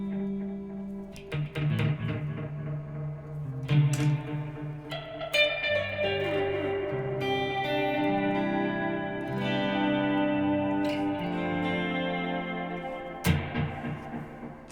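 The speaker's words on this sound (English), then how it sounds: "by holding down tap and bypass, we can mix in a spring reverb" Guitar notes played through a Strymon El Capistan dTape Echo, tape delay with spring reverb blended in, repeats trailing and washing into a splashy, echoing ambience.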